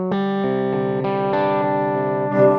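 Electric guitar with the coil tap engaged, played through effects with a touch of distortion and chorus, ringing out a few sustained chords that change every half second or so, close and steady.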